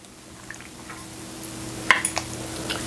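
Vegetable oil poured into quick-bread loaf batter mixed with eggs, orange juice and water, a quiet liquid glug with a few soft drips and splashes near the middle, faint against a low room hum.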